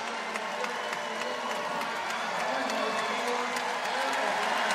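Arena crowd at the Utah vs Gonzaga NCAA women's basketball game roaring and cheering as players take the floor, a loud, sustained wall of voices with scattered claps and whoops.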